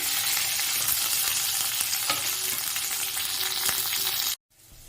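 Curry leaves, onions and green chillies frying in hot oil, a loud, dense crackling sizzle with a few spatula scrapes, cutting off abruptly near the end.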